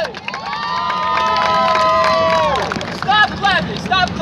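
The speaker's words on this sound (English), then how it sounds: "clap your hands and make some noise!" A street-show crowd in Times Square, New York City, clapping and cheering loudly, with sustained shouts and whoops rising together, then breaking into scattered excited cries and yells over continuing applause.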